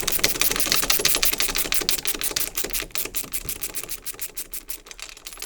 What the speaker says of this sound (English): and then I'm gonna unscrew these.